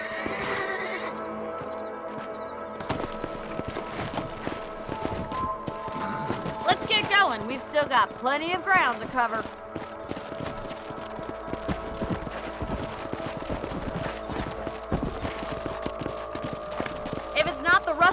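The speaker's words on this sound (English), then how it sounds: "Let's get back on the horses and see what else is going on." Horses neigh and whinny while hooves clip-clop steadily across open ground in the Red Dead Redemption game, with someone speaking over the animals and distant background music.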